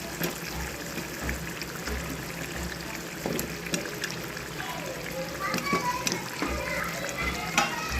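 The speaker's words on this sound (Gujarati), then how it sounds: "હવે આપણે લાસ્ટમાં નાખી દઈશું આખા કાંદા" Whole onions frying and being stirred in a pan for an onion curry, a steady sizzle with scraping stirs and occasional clinks, fairly close, with speech over part of it.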